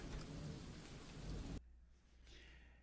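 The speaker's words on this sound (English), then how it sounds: "We're getting thunderstorms." Heavy rain pours in a dense roar with deep rumbling thunder underneath during a thunderstorm, then cuts abruptly to a quieter, distant patter of rain.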